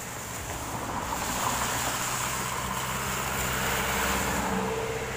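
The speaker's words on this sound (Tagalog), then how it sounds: "sobrang taas na ng tubig. Grabe naging parang dagat na." Floodwater from Typhoon Ulysses rushes through Sagud, a steady broad roar like heavy surf, continuous and fairly loud, with a faint low engine-like hum underneath and no talk.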